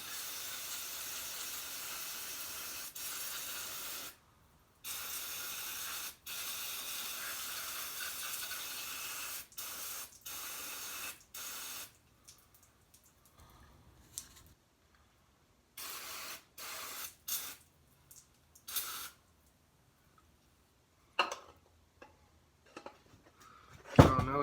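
Cleaner sprays in repeated hissing bursts onto Jonsered 525 chainsaw parts, close and moderately loud, with short pauses between blasts that become quicker and more scattered toward the end.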